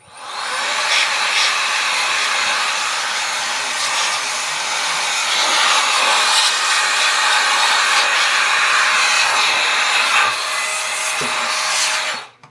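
An air blower whooshes continuously to clear dust off a computer power supply that is still plugged in. The rushing stream is loud, close and unbroken for about twelve seconds, with slight shifts as the nozzle moves.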